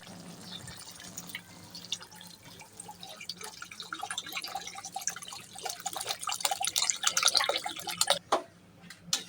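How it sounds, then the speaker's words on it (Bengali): Water poured into a pan of simmering taro curry to make the gravy, a steady trickling and splashing that grows louder and busier before stopping abruptly near the end. "এখন আমরা ঝোলের জন্য দিয়ে দেব পানি"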